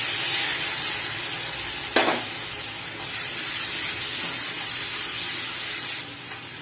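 Spice paste and yogurt sautéing in a pan for pahadi biryani, a steady loud sizzle and hiss with a couple of brief stirring scrapes, close up and without talk.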